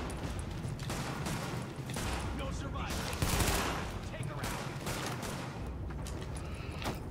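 Rifle gunfire in the video game The Division sounds as dense, continuous bursts of shots with a brief louder volley midway, while someone talks over the action.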